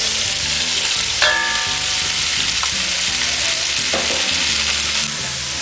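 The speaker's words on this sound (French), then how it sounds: "Quand l'huile est chaude, vous y mettez vos queues de langoustine." Langoustine tails frying in hot oil in a pan, with a steady dense sizzle close by, a couple of brief utensil clinks, and no talking.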